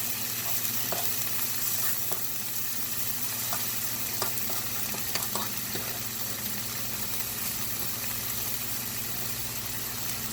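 Spinach going into a hot pan and being stir-fried, a steady loud sizzle with occasional scraping clicks of stirring, and no voices.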